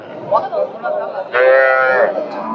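Cattle at a rural livestock market moo in one long, loud, harmonic call near the microphone, with people talking before and after amid crowd chatter.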